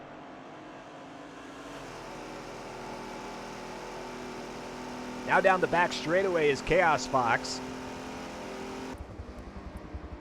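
A 2017 Ford F-150 Raptor race truck in Forza Motorsport 7 drones steadily, then revs hard through a quick series of rising, shifting bursts midway, all under continuous race commentary.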